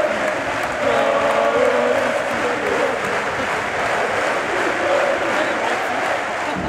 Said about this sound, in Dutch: het grootste applaus was er natuurlijk voor Superfries Brian van der Bussen